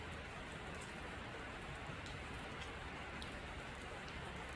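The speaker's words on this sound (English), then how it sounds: "The rain's going to pick up soon." Rain falls steadily outdoors, a faint, even hiss of drops that runs unbroken from start to finish with no voices.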